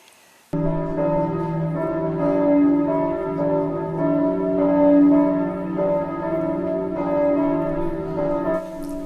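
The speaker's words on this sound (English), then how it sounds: "the church bells started to ring" Church bells in New England ring continuously and loudly at the announcement of the end of World War II, their rich overlapping tones sustaining and swelling without pause after a brief quiet start.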